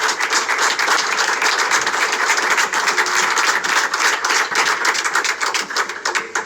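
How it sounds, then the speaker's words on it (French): Audience applause at a presentation event, loud dense clapping sustained throughout with a crisp, rapid texture and no talking over it. "des applaudissements vraiment exceptionnels"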